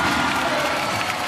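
A basketball arena crowd at a Taiwanese pro league game, Hsinchu Toplus Lioneers vs Formosa Dreamers, roars and cheers steadily throughout, with broad dense noise and no clear breaks.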